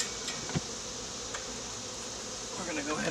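Honey bees buzzing steadily around a mating nuke hive while hives are being combined, a close, continuous drone with brief soft knocks.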